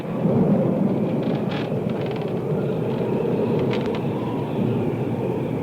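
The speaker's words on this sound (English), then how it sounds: "With a storm a-howling outside" A deep, continuous rumble of thunder rolls on and on, low and heavy, with faint crackles on top and no voices.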